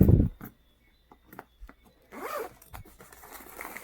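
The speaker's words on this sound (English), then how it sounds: "we're gonna unzip that side" A suitcase packed as a hospital bag being unzipped, a loud zip rip at the start followed by short scattered rustles and a second longer zipper pull near the end.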